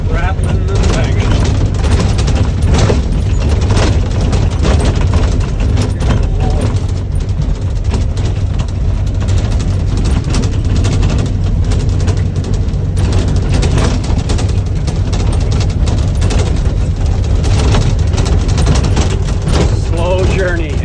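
A small excavator drives over a rough, bumpy road, its loud, dense rattling and banging continuing without a break throughout.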